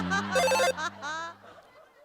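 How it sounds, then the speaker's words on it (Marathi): A doorbell set to a phone ringtone plays a bright electronic trilling melody indoors, loud and close, for about a second and a half before fading out. "फोन रिंगच्या आवाजाची डोरबेल का लावली आहेस तू"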